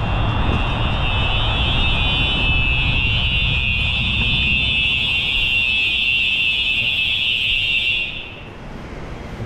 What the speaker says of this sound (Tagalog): Magte-testing ng fire alarm mga kasangkayan.